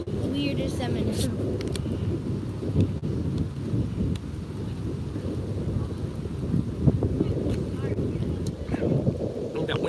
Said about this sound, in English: Oh, that wind's kicking up.